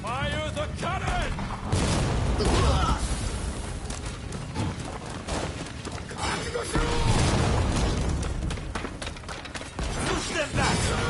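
Cannon fire in the video game Rise of the Ronin: repeated loud booms amid dense battle noise, shouting and music, with heavy blasts landing near the start and middle of a continuous combat din.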